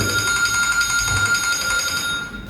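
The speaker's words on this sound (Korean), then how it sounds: "니가 알람 울린 거냐?" An alarm rings steadily and fairly loudly at a gym during a chest workout, a continuous electronic bell-like tone that holds for the whole stretch and fades slightly at the end, with no talk over it.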